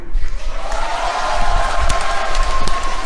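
A crowd at a public meeting with the Seongnam mayor clapping and cheering, a loud dense wash of applause and voices that holds steady throughout, with scattered sharper hits.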